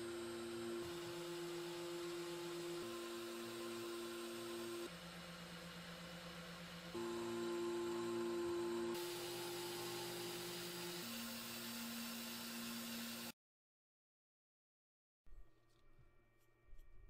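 A CNC router cuts the outline of a screwed-down sheet in a contour pass, giving a steady high whine with pitch shifts as the spindle moves. It cuts off abruptly, then a short burst of quieter machine noise follows.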